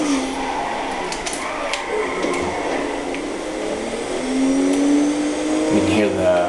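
Turbocharged car engine in GTA 5 during off-road rally racing, a steady loud game engine drone with a rising rev toward the end, heard under ongoing commentary.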